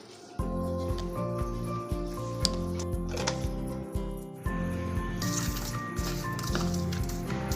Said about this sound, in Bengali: নুন হলুদটা মাছের মধ্যে খুব ভালোভাবে মাখিয়ে নিতে হবে